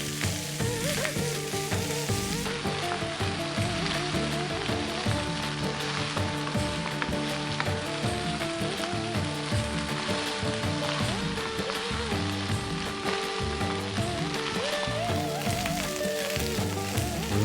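Potato rice made with cold cooked rice fries in a pan and is stirred constantly. A loud, dense, unbroken sizzle runs the whole time, with light scraping from the stirring and no voices.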